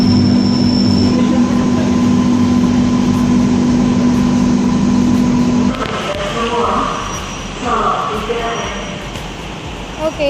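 A ride aboard the Palembang LRT light rail train: a steady motor whine over rolling wheel rumble fades partway through as the car slows, leaving softer rattles and muffled background sounds.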